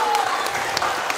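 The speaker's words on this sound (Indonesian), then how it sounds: "Boleh Bu Raita minta tepuk tangan sekali lagi buat Samer?" Audience applause for a student presenter at a primary school research seminar, a brief steady patter of clapping with a voice over it.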